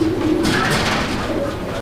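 Soft, low cooing from a female Lahori pigeon close by, with a broad rustling background noise running throughout.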